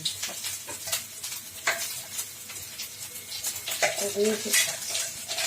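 Grated coconut and lentils sizzle in hot oil in a wok, with steady close frying hiss and repeated spoon scrapes and clinks against the metal.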